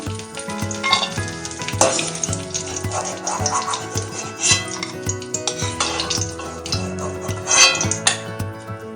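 Raisins sizzle and fry in hot ghee in a pan for a fried rice dish, a steady close crackle with occasional stirring and utensil clinks, no talking.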